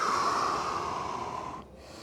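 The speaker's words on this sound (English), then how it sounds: "Breathe in and out." A slow, steady breath drawn in and let out during a seated floor mobility workout, a soft airy hiss that stays fairly loud and close before tapering off near the end, with no talking.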